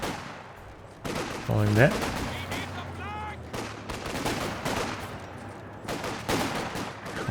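Machine gun fire from an MG34 in the Company of Heroes 2 strategy game, bursts of shots mixed with other battle noise under a commentator's voice.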